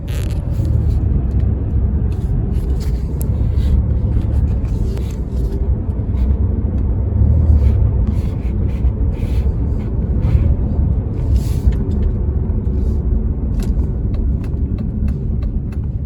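A 2003 Chevy Impala with a 3.4 engine and a freshly fitted catalytic converter runs with a loud, steady low rumble, heard from close by on the road with faint ticks and clatter over it.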